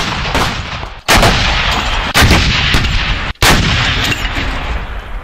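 Artillery guns fire in several heavy booming blasts spaced about a second apart, loud and close, each followed by rumbling roar, with no talking.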